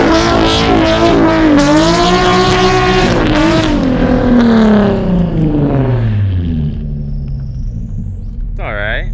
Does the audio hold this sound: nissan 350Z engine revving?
yes